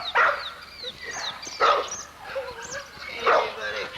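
American pit bull terrier named Bulldozer, about 14 months old and 55 pounds, whimpering and giving several short yips and barks in bursts, close by, while a person talks to him.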